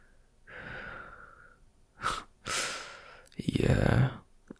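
A voice performs the labored, ragged breathing of an injured werewolf up close, with heavy exhales, sharp gasping intakes and a rough snorting breath.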